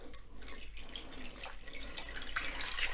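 Water from a prepared supply is poured into a bowl to make a floating summer-meadow table decoration, giving a soft, steady trickle and splash that swells slightly toward the end, fairly quiet and close with no one speaking.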